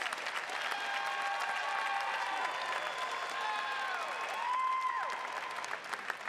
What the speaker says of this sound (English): Please join me in a round of applause for the Master of Public Management students.